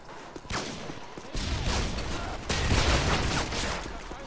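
Gunfire from the Call of Duty video game comes in dense, rapid bursts of shots. Several loud volleys overlap one another with no talking.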